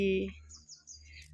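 A few quick, high sparrow chirps come through faintly over a low background hum, short and scattered rather than a continuous song.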